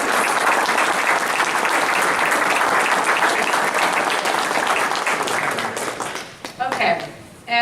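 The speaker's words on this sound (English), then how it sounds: "Can we give a round of applause to all of these people?" Sustained applause from a crowd at an annual meeting, dense steady clapping that fades toward the end with a few scattered claps and a brief voice.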